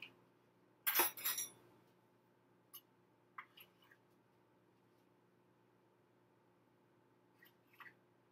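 A measuring spoon of baking powder clinking against a glass mixing bowl, one brief cluster of bright clinks followed by a few faint, scattered taps in a quiet kitchen.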